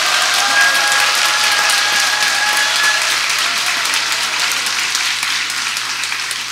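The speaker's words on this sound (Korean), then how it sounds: "이렇게 열렬한 환호성이 있었습니다." An audience at a stage event welcoming a Catholic priest and a Buddhist monk breaks into loud, sustained applause that tapers slightly toward the end, with no talk over it.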